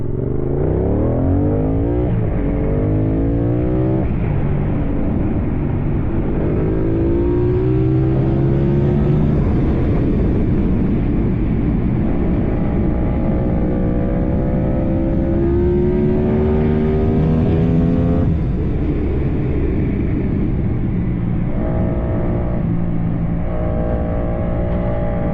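A Yamaha R7 motorcycle with a new intake and flashed ECU revs hard and accelerates through the gears, rising in pitch again and again with each shift, loud and close, from an onboard position.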